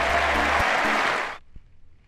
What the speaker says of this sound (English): And they're applauding.